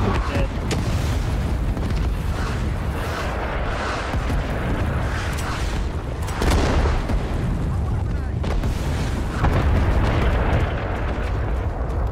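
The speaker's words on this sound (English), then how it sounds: "Grenade spamming." Repeated grenade explosions in a video game, heavy booms and rumbling blasts stacked densely over continuous battle noise, loud and close.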